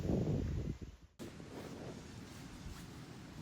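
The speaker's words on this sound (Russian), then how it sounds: "Либо это ветер так шумит," Steady rushing wind in winter on Madeira, with a low, roaring rumble that briefly drops out about a second in, then carries on evenly.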